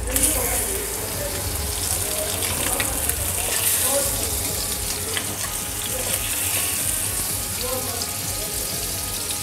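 Surmai fish fries on a tava with a steady, close crackling sizzle that runs the whole time, with small bursts of spitting oil and faint kitchen handling noises as the pieces are turned over.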